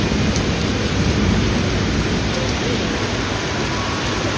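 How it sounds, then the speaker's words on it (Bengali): Heavy rain pours in a dense, continuous roar at Sealdah railway station in Kolkata during a flooding downpour, with low rumbling thunder beneath and no talk. "দেখো কত জোরে বৃষ্টি হচ্ছে, দেখো আকাশ ডাকছে"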